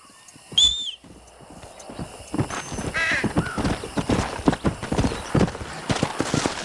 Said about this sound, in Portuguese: Deixa eu chamar meu cavalo.